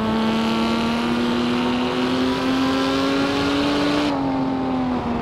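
A Lamborghini Miura P400SV engine in the racing game Assetto Corsa holds a steady, droning hum at near-constant revs, then the pitch dips slightly near the end, loud and close with no talk.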